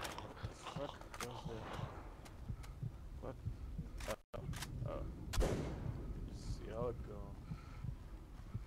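Gunfire in the DayZ video game: a few sharp, separate cracks over several seconds, mixed in with excited voices talking.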